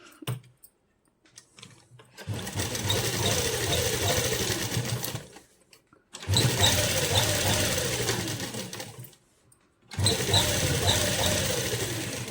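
An electric sewing machine stitches a seam along the very edge of a salwar cuff, running in three fast, steady bursts of rapid clatter separated by brief pauses, up close with no talk.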